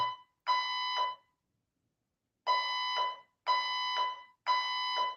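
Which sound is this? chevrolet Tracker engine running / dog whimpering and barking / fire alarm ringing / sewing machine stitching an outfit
fire alarm ringing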